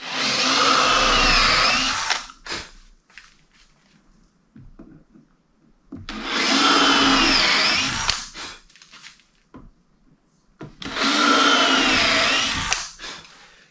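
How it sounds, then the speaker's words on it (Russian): A power drill with a 5 mm bit and depth stop whines loudly in three separate bursts of about two seconds each, drilling an HPL panel, with quiet handling noises in the gaps. "Далее сверло с ограничителем диаметром 5 мм и сверлим."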